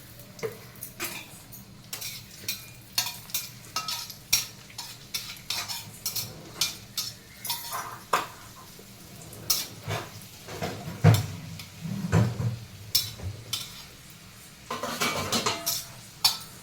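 Raisins fried in a pan for papaya halwa, heard as a run of sharp, rhythmic spoon-on-pan scrapes and clinks with a faint sizzle underneath, close by and without talk.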